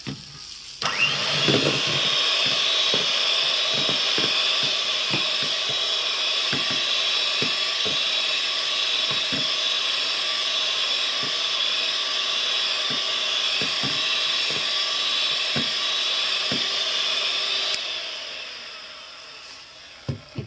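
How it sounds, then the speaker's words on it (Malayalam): An electric beater whirs steadily through a cake or chocolate mixture with half a teaspoon of vanilla essence, a sustained motor hum with light rhythmic taps of the beaters against the bowl, stopping near the end. "വാനില എസൻസ് ഒരു 1/2 ടീസ്പൂൺ ചേർത്ത് കൊടുക്കുക. നന്നായിട്ടൊന്ന് ബീറ്റ് ചെയ്തെടുക്കുക കേട്ടോ."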